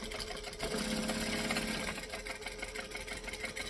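A sewing machine runs steadily, stitching fabric along a seam with a continuous mechanical whir that stays fairly constant and close throughout.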